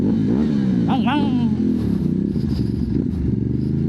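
A Ducati DesertX motorcycle's 937cc engine rumbles steadily and climbs in a brief rev, with a person talking over the loud, continuous engine noise.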